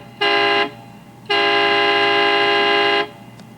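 A loud aftermarket truck horn on a Ford F-250 blasts twice up close, a short toot followed by a longer sustained honk, steady and bright.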